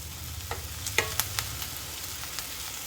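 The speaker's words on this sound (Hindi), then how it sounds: "बस इसी तरह से हाई फ्लेम पर आप फ्राई करते जाएं" Capsicum and carrot stir-frying over a high flame for veg spring roll filling, a steady close sizzle broken by a handful of sharp scraping clicks from stirring, no voices.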